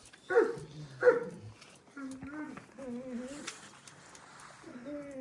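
A dog gives two sharp, close barks, followed by a person speaking at a moderate level.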